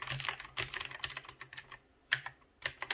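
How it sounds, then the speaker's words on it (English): Rapid bursts of keystrokes on an NKEY R3 RGB backlit mechanical gaming keyboard, crisp clicky taps in quick runs with short pauses, close and clear with no talking. "So every time I type a key,"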